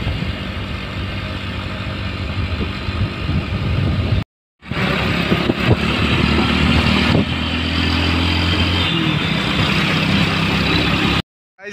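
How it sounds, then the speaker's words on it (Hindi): A motorcycle engine drones steadily at close range as the bike rides along, its noise broken by a short gap partway through. "हमारी मोटरसाइकिल हो चुकी है रेडी और हम निकल रहे हैं अब गोहाना के लिए।"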